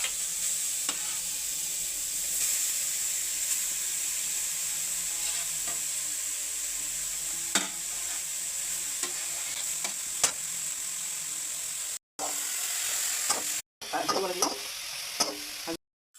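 Grated carrots frying in ghee for carrot halwa make a steady, close sizzle, with occasional scraping stirs in the pan and no talk.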